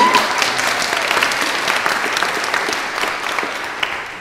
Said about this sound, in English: Stephen Jones, stand up and let everybody clap for you.